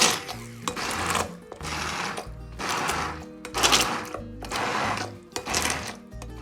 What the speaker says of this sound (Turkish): Kaynatmış olduğumuz domates ve biber karışımını blenderdan geçirelim